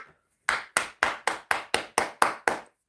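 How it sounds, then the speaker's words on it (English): Nine sharp, evenly spaced hand claps ring out close and alone after a brief silence, in a quick steady rhythm. "We need to clap for this man."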